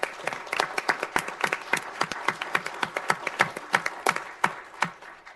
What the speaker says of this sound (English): So one more round of applause for this young man.